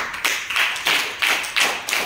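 Students in a classroom clapping hands together in a steady burst of applause, several distinct pulses of claps about every quarter second, close and fairly loud with no talking.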